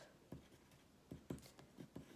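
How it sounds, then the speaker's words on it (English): A white chalk marker writes on a gift name tag in short, quiet scratchy strokes, several brief bursts spaced irregularly, close up with no talking. "I'm just going to take a white chalk marker and I'm just going to write"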